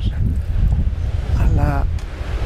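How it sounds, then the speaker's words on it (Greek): Wind blows across an exposed spot high on Mount Hymettus, a steady low rumble buffeting the microphone throughout, with a faint tonal sound briefly rising through it near the middle. "γι' αυτό ακούγεται πιο πολύ αέρας προφανώς"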